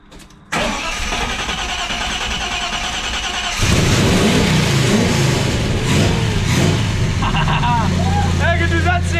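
A car engine cranks briefly, catches on its first start and roars into loud revving that settles to a rough idle, with people talking and cheering over it.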